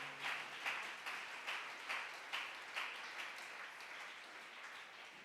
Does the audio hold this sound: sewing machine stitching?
no